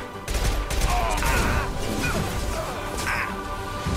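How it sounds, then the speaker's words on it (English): A high-impact shot fired in the video game Mass Effect 2 bursts out as a loud, sustained crash of gunfire and impact noise that stays dense and heavy for several seconds. "Firing a high impact shot"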